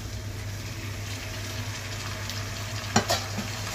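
Tomato pieces stirred into onions frying in oil for an Andhra chicken fry, a steady sizzle throughout with a couple of louder scraping stirs near the end.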